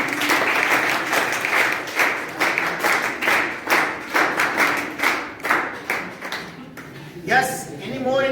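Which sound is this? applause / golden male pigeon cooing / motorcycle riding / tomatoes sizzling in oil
applause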